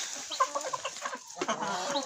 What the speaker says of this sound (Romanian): Uitați cocoșii mei